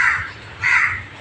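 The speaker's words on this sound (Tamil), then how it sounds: "காக்கா கத்துது பாரு." A crow caws twice, loud and near, each call a harsh drawn-out rasp, with a short pause between them and nothing else heard.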